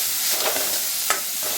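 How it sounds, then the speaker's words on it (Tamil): Ground thuthuvalai leaf paste being lightly sautéed in a pan for rasam, giving a steady close sizzle with soft stirring scrapes and no talking. "இப்போ இதில் நம்ம அரைச்சி வச்சுருக்க தூதுவளையை இதில் சேர்த்துடலாம். லைட்டாக அதை அப்படியே வதக்கிக்கலாம்."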